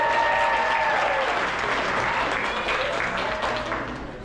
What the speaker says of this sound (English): can we give a big round of applause to Denise